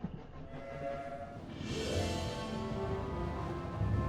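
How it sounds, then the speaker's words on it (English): A train in the video game 80 Days rumbles along the tracks with a low steady roll and tonal whistle-like hums, growing slightly louder midway. "The train started moving once more, but we were somewhat delayed."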